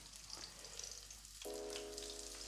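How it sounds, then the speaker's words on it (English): Vegan hash browns dropped into a hot pan, a soft crackle giving way to a steady, close sizzle and bubbling of oil, with no one talking. "got a good little bubble as they hit the pan"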